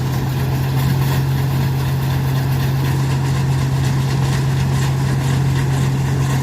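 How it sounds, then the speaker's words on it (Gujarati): A tractor engine idles at close range while its trailer unloads harvested groundnut plants, a loud, steady hum with a constant low drone. "તો હવે જો ટ્રેક્ટર છે ને"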